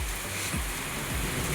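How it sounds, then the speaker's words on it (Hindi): Heavy rain pours with water rushing downhill, a dense continuous wash of splashing flow heard up close and fairly faint, with no talk. "ये देखो नीचे पूरा कितना पानी बह रहा है।"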